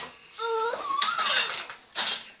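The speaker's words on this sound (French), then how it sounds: "en rangeant un peu de vaisselle." Dishes clink and ring briefly as they are set down and stacked, a couple of distinct bright knocks close by.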